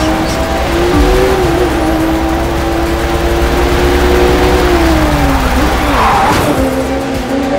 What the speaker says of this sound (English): We're starting off with a nighttime street race challenge.